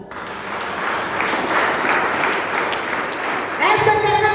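A church congregation at an evangelistic service applauds and cheers for the Lord: steady, dense clapping from a large crowd that swells through the middle, with a voice rising near the end.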